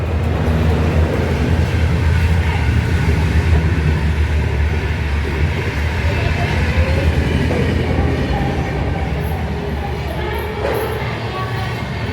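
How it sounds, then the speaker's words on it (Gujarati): A running train gives a loud, continuous rumble with a faint clickety-clack rhythm, heard from close by, while people talk over it. "રેલગાડીનો તાલ આવી જાય"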